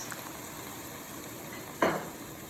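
Vegan mushroom bourguignon simmering with broth and soy sauce in a pot, a faint steady bubbling hiss with one brief louder burst near the end.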